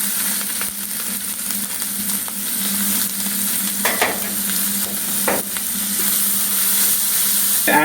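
Green chili and carrot slices fry in a pan for veg Hakka noodles, giving a steady close sizzle with occasional scrapes and stirring clatter.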